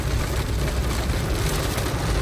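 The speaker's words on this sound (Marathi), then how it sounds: "हे बघा किती पाऊस आहे" Heavy monsoon rain pounds on a moving car, heard from inside as a dense, loud, continuous wash of drumming water over the low road rumble.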